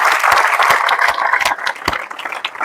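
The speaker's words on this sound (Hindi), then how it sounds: "तो जोरदार तालियां" Loud applause from an audience honoring a young woman selected for the Navy SSR, a steady dense roar of clapping throughout with a few sharper individual claps standing out.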